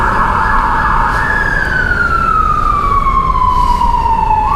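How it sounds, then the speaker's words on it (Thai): An ambulance siren wails loudly and close by on a Soi Nana street, one long tone sliding slowly downward over steady traffic noise. "รถพยาบาลวิ่งทั้งวันเลยนะครับ"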